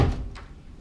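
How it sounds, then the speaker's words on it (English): A hotel room cupboard door opens with a brief low thunk followed by a faint click, close and quiet, with no talk. "cupboards."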